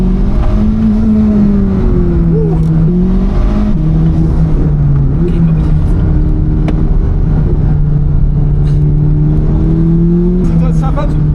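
A Chevrolet Corvette C8 ZR1 on a race track drones steadily and loudly from inside the cabin, its engine tone rising and falling slightly throughout.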